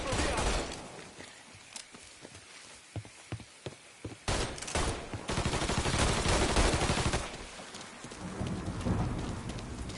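Gunfire in the Mafia 3 video game, a rapid run of sharp shots followed by heavy sustained blasts and roaring noise, loud and close, with a voice briefly heard among the shooting.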